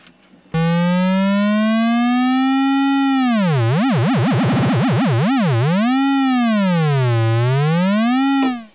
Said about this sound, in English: And there's our sine wave, you know, being a sine wave in a low frequency oscillator.